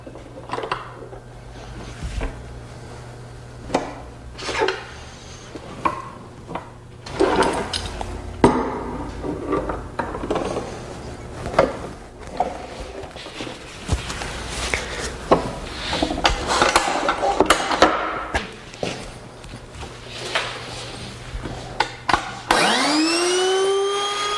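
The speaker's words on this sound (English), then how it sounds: "I'm taking a small pass and some plywood scrap to double check my fence setting." Wood router taking a small practice pass on plywood scrap, a run of woody scraping and knocking bursts with a steady hum underneath, ending with a rising whir as the motor spins.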